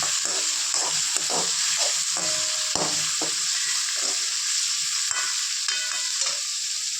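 Drumstick, tomato and raw mango curry with curry leaves being stirred in a frying pan, a steady sizzle with repeated scraping strokes of the spoon close up, no voices.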